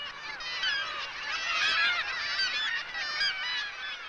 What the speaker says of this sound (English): A kittiwake breeding colony is an extremely noisy place, as each pair proclaims ownership of its own particular ledge.